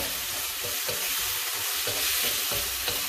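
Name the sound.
pork, onion and garlic sizzling in a pan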